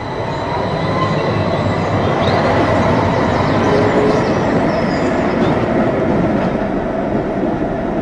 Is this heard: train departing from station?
yes